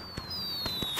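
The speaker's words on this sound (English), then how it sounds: "Alright, let's make this firework" A firework set off under a bridge in the video game Yonder: a few quick sharp pops and crackles over about a second, with a thin whistling tone sliding down behind them.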